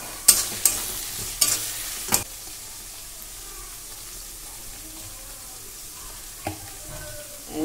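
Tomatoes frying in a pan give a steady low sizzle, with a few sharp scrapes and clacks of stirring at the start and one more near the end.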